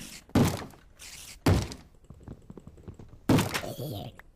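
Three hard knocks or thumps strike a door in a survival video game, spaced apart and loud against quieter game sounds and a voice speaking.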